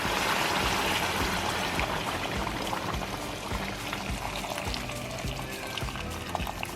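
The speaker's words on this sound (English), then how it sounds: "we have our boiling water. And we add our water. Our water needs to cover everything" Boiling water pours steadily into a pot of meat and rice for Uzbek plov, a close, continuous splashing rush with bubbling and fizzing throughout.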